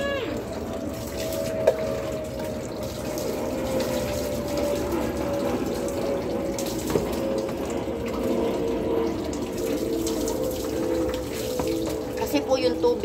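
Tap water runs in a steady, low-pressure stream during a dog bath outdoors, a continuous wash of flow with faint knocks and splashes toward the end.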